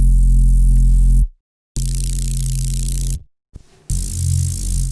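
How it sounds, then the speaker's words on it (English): Heavy distorted noise bass synth built in Operator and Serum, loud and dense with thick low end and gritty hiss, playing in chopped bursts separated by sudden silent gaps. "the noise bass sounds like this"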